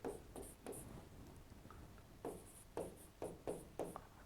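Pen writing on paper, faint scratchy strokes coming in short irregular bursts at close range against a quiet background.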